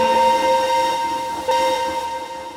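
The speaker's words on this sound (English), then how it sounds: "two engines began to drag the heavy train out the yard." A heavy train pulled by two engines moves out of a yard, giving a loud steady droning tone with harmonic hum and rumble, alone without voices.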